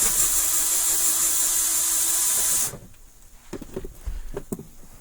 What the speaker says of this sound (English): We're going to remove the 10 millimeter.